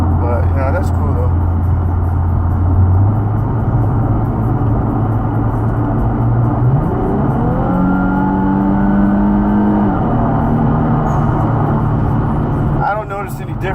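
An Infiniti Q60 fitted with an AEM intake revs loudly and up close, its engine tone climbing in steady steps, holding high, then dropping off, with a voice talking over the engine.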